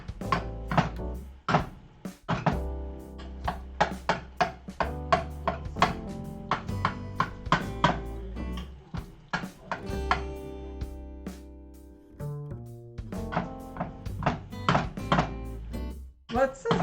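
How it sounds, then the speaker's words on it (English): A knife cutting into a pizza pasta bake, making a steady run of close, crisp taps and scrapes in irregular rhythm with brief pauses, and some faint talking in between. "Alright, I'm just gonna like cut into it."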